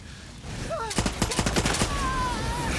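Rapid burst of gunfire in the video game Far Cry 6, about seven sharp shots in quick succession over a noisy battle backdrop with faint whistling tones, fairly loud and close.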